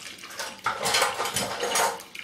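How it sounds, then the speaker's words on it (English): Tap water pours into a sink before soap is added during bar soap making, a close, splashy rush that swells and dips unevenly over a couple of seconds with no talking. "just going to put some water in the sink."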